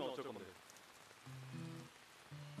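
Rain falling during a drama scene, a soft steady patter on surfaces, with a faint voice at the start and gentle music tones entering underneath.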